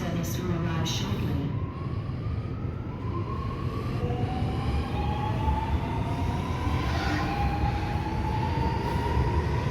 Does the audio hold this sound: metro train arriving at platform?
yes